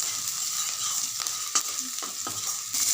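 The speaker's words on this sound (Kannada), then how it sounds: "ಅದನ್ನು ಹಾಕ್ಕೊಂಡು ಅದೆಲ್ಲ ಸ್ವಲ್ಪ ಕಲರ್ ಚೇಂಜ್ ಆಗೋವರೆಗೂ ಚೆನ್ನಾಗಿ ಫ್ರೈ ಮಾಡ್ಕೊತಾ" Chopped green chillies fry in hot oil in a pan, giving a constant bright sizzle with a handful of close spoon scrapes and taps as they are stirred, no voices.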